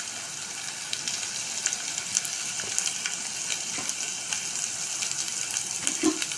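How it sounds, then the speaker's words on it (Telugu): Ginger garlic paste fries in a pan with spices, a steady close sizzle with faint crackles and occasional stirring scrapes, no voices. "అల్లం వెల్లుల్లి పచ్చివాసన పోయేదాకా వేయించుకోవాలి."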